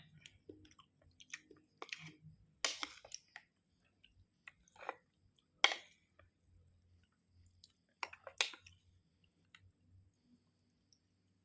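Someone eating khanom jeen rice noodles with green curry makes close, wet chewing and soft squishy clicks in short irregular bursts, separated by quiet pauses with no talk.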